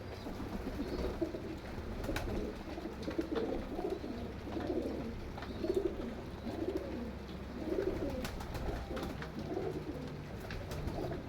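Teddy pigeons coo softly in repeated low rolling phrases over a faint outdoor background, steady throughout with no talk.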